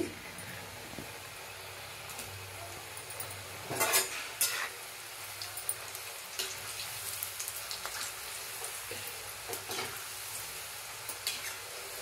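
Cut shankarpali pastry pieces sizzle and bubble in hot oil on a low flame, a steady crackling hiss with a few louder spits and stirring scrapes, with no voices.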